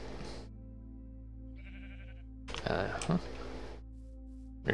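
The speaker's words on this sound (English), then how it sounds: "There's another sheep." A sheep bleats in Minecraft, a short game sound standing out amid quiet background, with a person talking around it and some keyboard clicks.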